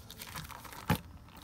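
Plastic bag packaging from a mailed parcel of stickers crinkles faintly, then gives one short, sharp crackle near the middle, close to the microphone and alone without talk.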